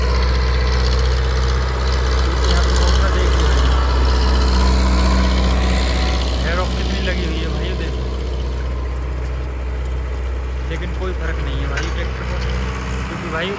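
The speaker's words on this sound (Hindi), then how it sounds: "बड़ा ट्रैक्टर है और 4 सिलेंडर है।" A loud, steady four-cylinder Digitrac PP 46 tractor engine pulling a harrow in high gear rumbles throughout while someone talks over it.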